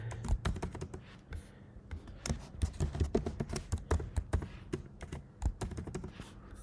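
A password is typed on a computer keyboard while a user is set up in a Django admin site: quick, irregular bursts of close, crisp keystrokes with short pauses between runs.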